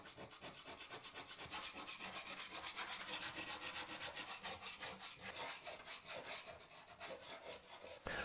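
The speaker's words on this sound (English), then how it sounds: "Start by scraping out the existing grout with a grout saw." Hand-held grout saw scraping old grout out from between bathroom tiles, a continuous gritty rasping with fast back-and-forth strokes, close and steady for the whole stretch with no talk.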